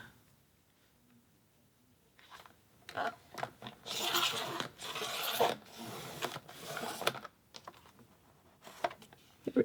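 Scratch paper being cut for a scrappy quilt block, a run of close, dry, rasping strokes and crisp snips at moderate level, with quieter handling noises before and after.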